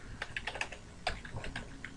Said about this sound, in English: type in a comment on that as well